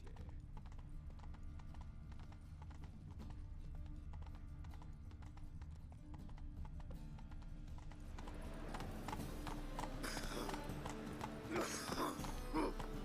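In The Witcher video game, the horse Roach's hooves clip-clop in a steady walking rhythm, growing louder and busier toward the end amid ambient game sound.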